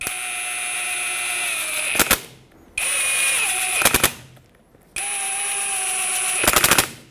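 A power tool drives small T27 bolts into the locking hub of a 2011-2016 Ford F-350. Three long, loud, high whirring runs each end in a burst of rapid impact rattling, with short quiet gaps between.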